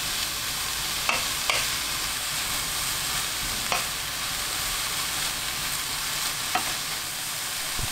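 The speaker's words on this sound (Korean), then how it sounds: "5분 볶습니다." Bellflower root (doraji) is stir-fried in a pan over high heat with a steady close sizzle, broken by occasional sharp scrapes and clacks of a utensil against the pan. No one speaks.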